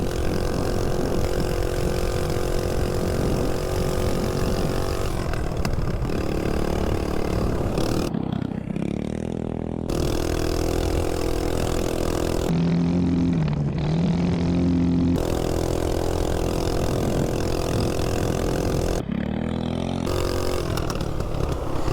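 A mini bike with a 196 engine rides off-road in the desert, its small engine droning loud and steady near the microphone, dipping and surging as the throttle changes, with rattling over rough ground.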